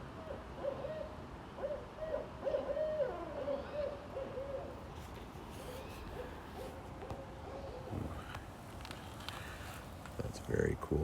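A barred owl calls outdoors with a series of clear, rhythmic hoots, moderately distant and strongest early on. Faint rustling follows, and people talk quietly in the background.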